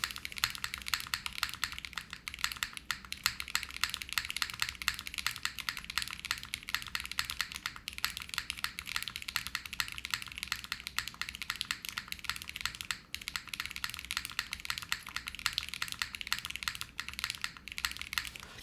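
Steady, dense typing on a mechanical keyboard fitted with PBT Alpha keycaps, a continuous patter of close, crisp keystrokes running throughout with no talking.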